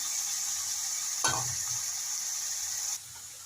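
Onion sizzles steadily in a pan for a cauliflower curry, a bright constant hiss broken by one scraping stir, the frying sound dropping away sharply near the end.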